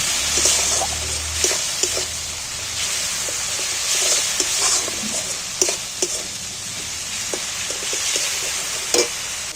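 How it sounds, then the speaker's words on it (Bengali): A spice paste of chili and turmeric fries in a pan for a cauliflower, egg and rice dish. The hiss is steady and close, broken by sharp scrapes of stirring. "এবার আমি মশলাটা সম্পূর্ণভাবে কষিয়ে নেব"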